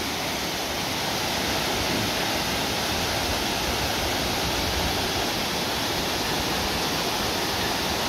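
Dense, continuous rush of the Șipot waterfalls cascading over rocks beside a path, a loud, steady broadband roar that stays even throughout with no voices.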